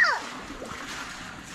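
Children splashing in swimming water at Pokhara, a brief splash at the start followed by softer water sounds, with a voice and other talk nearby.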